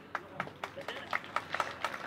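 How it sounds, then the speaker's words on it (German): An audience at an outdoor peace vigil in Vienna claps in a loose, steady rhythm, the crisp hand claps coming from a modest crowd and carrying moderately loud over low background murmur. "so viel Applaus hätte ich nun mal gar nicht erwartet"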